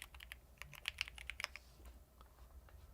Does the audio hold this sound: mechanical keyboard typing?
yes